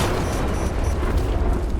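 Explosives detonate in the video game Starship Troopers: Extermination, a loud, dense, sustained booming rumble that fills the whole moment without letup.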